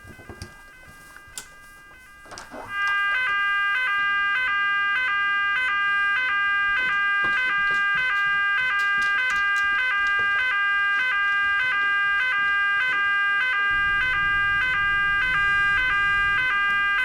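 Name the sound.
alarm sounding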